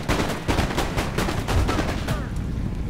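Musket volley fire in the strategy game Empire: Total War, a dense crackle of many overlapping shots in repeated bursts, loud and continuous, with battle ambience underneath.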